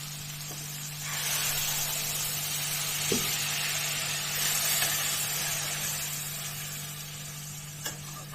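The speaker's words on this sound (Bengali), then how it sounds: "ঝোল ফুটে উঠেছে" Bengali prawn gravy with masala and water, the prawns fried beforehand, simmering in a pan on a gas stove; a steady broadband sizzle and bubbling hiss runs throughout with a faint constant hum beneath.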